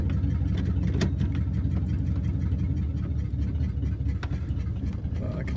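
A vintage flathead Ford engine, first driven since 1966, idles and runs smoothly with a steady low rumble and whir, close by and continuous, with a few sharp clicks over it.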